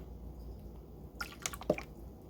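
Coconut water is poured into a mixture for dairy-free biscuits, heard as a few quiet splashing drips and squishy glugs in a short burst over a soft room background.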